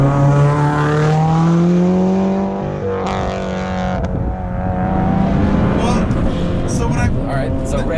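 A 460-horsepower Subaru Outback flat-four engine revs hard toward the rev limiter, a loud rising harmonic drone that holds, drops off and bounces near the top, heard from inside the car with a person talking over it.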